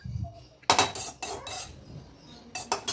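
Roasted semolina being moved from a pan onto a plate, heard as several sharp metallic scrapes and clanks of a spoon against cookware, separated by quieter pauses.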